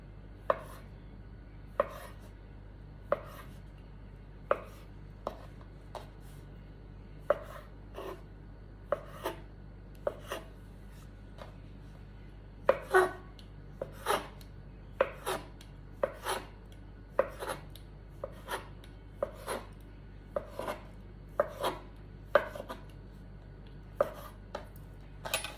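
A knife chops handmade dumpling dough into equal pieces on a cutting board, sharp distinct knocks at a fairly steady, unhurried rhythm, sometimes doubled, close and clear, with no talking.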